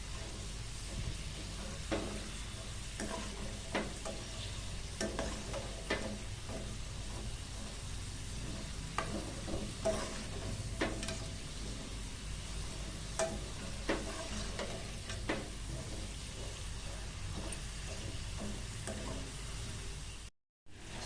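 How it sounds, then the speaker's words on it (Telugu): Potato French fries frying in oil, a dense steady hiss and crackle that runs unbroken at close range, with occasional soft knocks of a spoon against the pan. "చూడండి శబ్దం వస్తుంది ఇవి వేయించుతుంటే అంతలకే క్రిస్పీగా."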